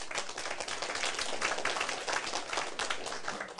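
Dense audience clapping from many hands at a Taiwanese civic lecture hall session, a steady close roar of applause holding at even loudness throughout with no talk over it.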